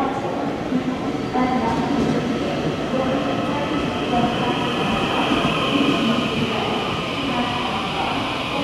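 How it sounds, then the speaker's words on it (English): ITX Saemaul train at Suwon Station, a loud, continuous rumble of rolling railcars with wheel and rail noise, steady and close throughout. "The train in platform 6 is"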